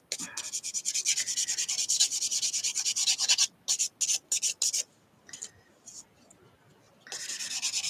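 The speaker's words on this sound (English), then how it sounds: "Very quickly I sand" A handmade celestial journal is sanded by hand with very fine sandpaper: quick, steady rubbing strokes for about three seconds, then a series of short separate swipes, a pause, and a final run of rubbing, close and without talk.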